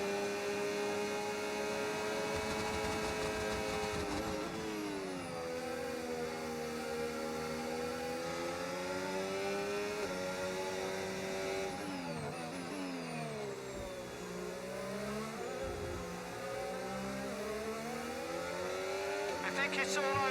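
Race car engines in a racing video game whine and rev steadily throughout an overtaking attempt, with pitch sweeping up and down through gear changes, continuous and fairly loud.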